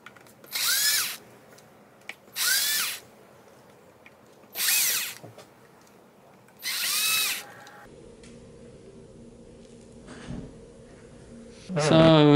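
A power drill backs screws out of a Denon MC 6000 DJ controller in four separate whirring bursts of about a second each, close and clear, followed by quieter handling and clicks.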